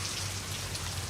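Steady, dense rain pouring down in a Farscape episode, a continuous even hiss of drops on surfaces, loud and unbroken throughout.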